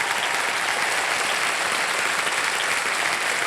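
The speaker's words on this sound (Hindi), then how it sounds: "118 तालियां बजती रहे इनके लिए" Studio audience at a televised quiz show breaks into loud, dense, sustained applause, an even roar of many hands with no pauses.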